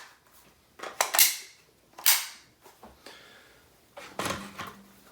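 A Bulgarian AK47 polymer magazine is inserted into and pulled from the rifle several times, each one a sharp, close plastic-and-metal clack, with a rattling click near the end.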